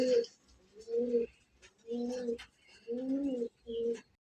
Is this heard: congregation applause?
no